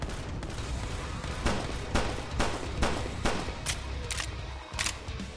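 Repeated gunshots pop in an irregular string over a steady noisy background in the zombie shooter Blood Waves, each shot sharp and fairly close.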